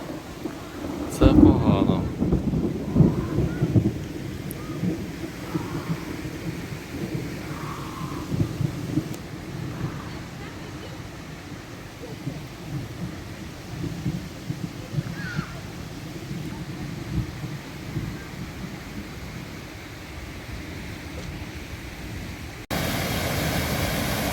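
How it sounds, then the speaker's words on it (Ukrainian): Steady rumbling thunderstorm on a mountain slope in the Skole Beskids, with a loud thunder crack near the start followed by continuous low rolling and rain hiss. "Громи і молнії це погано."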